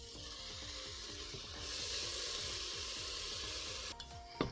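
Peppers sizzle steadily in hot oil in a large pan, following garlic and ginger, for a chicken lentil curry. The frying hiss is continuous and fairly loud, with regular scraping strokes from stirring and a few louder clatters near the end.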